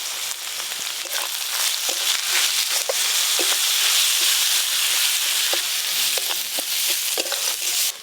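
Onions frying in a pan for a spicy crab curry with ground dried chilli, turmeric and salt, a steady bright sizzle broken by repeated scraping stirs throughout.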